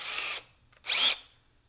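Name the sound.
screw gun drilling for cabinet handles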